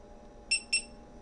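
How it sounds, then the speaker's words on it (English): Two short, high-pitched electronic beeps in quick succession from a sous vide cooker reaching temperature, over a quiet background hum. "that beep indicates that we're at temperature"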